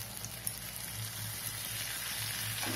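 Ground coconut going into eggplant thokku frying in oil, a quiet, steady sizzle with faint crackles and no talk.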